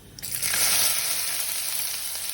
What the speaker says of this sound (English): We need to fry the onions for around 5 minutes.